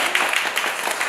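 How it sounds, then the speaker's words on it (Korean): Audience applause welcoming Professor Lim to a book-therapy talk at a Korean book salon, a steady patter of many hands clapping, moderately loud and without speech. "뜨거운 박수로 임 교수님 맞이해주세요"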